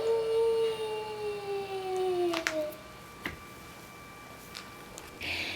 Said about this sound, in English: and a noisy wolf.